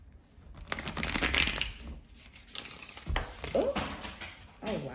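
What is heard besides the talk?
playing cards falling on the floor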